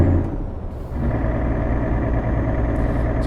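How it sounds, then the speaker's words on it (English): Loud, steady low truck engine drone from Euro Truck Simulator 2, heard close with a brief air-brake hiss early on and a faint high whine over the rumble. "I know the engine's loud, but not that loud."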